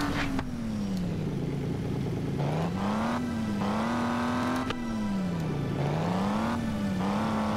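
A car engine in the Traffic Road Rush video game revs loudly, its pitch rising and falling in smooth waves as the car speeds up and slows down, steady and close throughout.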